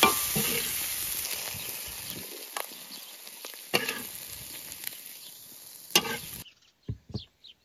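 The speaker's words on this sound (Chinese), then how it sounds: "翻炒出锅" Food is stir-fried in a wok with sustained close sizzling and scraping stirs that fade, followed by a short quiet stretch with a few faint clicks.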